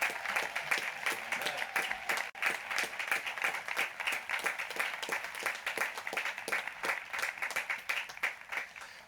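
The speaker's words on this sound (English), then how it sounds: "please join me in giving a rousing round of applause to our now graduates" An audience at a Class of 2020 graduation ceremony claps steadily for the graduates, a dense patter of many hands sustained throughout at moderate distance.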